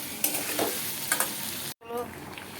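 Ground spice paste hits a hot pan of fried fish and potatoes, giving a loud, steady sizzle with scraping stirs, then a brief dropout before the frying resumes.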